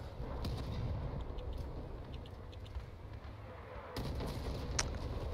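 Cannon fire from a combat vehicle in the Crossout video game, booming over a dense, steady rumble of battle noise, with a sharper burst near the end.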